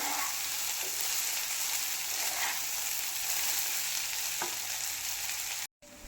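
Leftover rice being mixed in a hot pan for Marathi fodnicha bhat, a steady sizzle with soft scraping stirs, close and continuous, with no talking.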